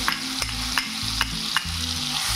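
Chutney hitting hot oil with cumin seeds, sizzling loudly and steadily while a spoon stirs it in repeated scraping strokes, close up.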